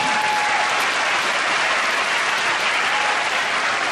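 A concert hall audience at Lotte Concert Hall keeps up loud, continuous applause calling for an encore, a dense unbroken wash of clapping with no talk over it.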